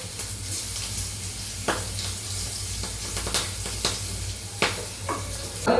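Mustard seeds, cumin, turmeric and green chillies sizzle steadily in hot oil, with a constant frying hiss broken by occasional sharp pops and crackles from the spattering seeds, close and fairly loud with no talking.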